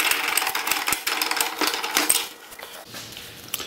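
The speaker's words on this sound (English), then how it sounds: "Just going to use a regular hacksaw." A regular hacksaw cuts through a Chevy Colorado pickup's charcoal canister held in a vise, rapid rasping strokes close by for about two and a half seconds, then fading to quiet.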